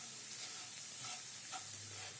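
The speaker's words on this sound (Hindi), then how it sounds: "ग्राइंड किया हुआ सूखा नारियल, तिल और मूंगफली के दाने मिक्स कर लेते हैं अच्छे से" Ground dry coconut, sesame and peanuts are stirred together in a hot pan for aubergine sabzi, giving a faint steady sizzle with soft stirring scrapes and no talk.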